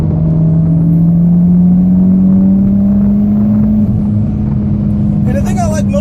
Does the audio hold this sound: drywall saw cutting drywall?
no